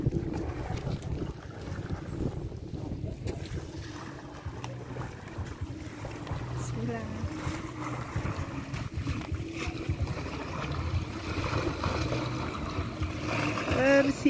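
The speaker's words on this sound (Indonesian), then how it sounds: "Kita dijemput pakai perahu ini dari" A boat carries riders out from the Teras Danu lakeside pier before a rafting trip on the Palayangan River, with steady water and motor noise, wind buffeting the microphone, and people talking over it.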